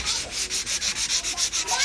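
Rapid, rhythmic sanding strokes rasp back and forth on a plaster wall, about five or six strokes per second, close and steady.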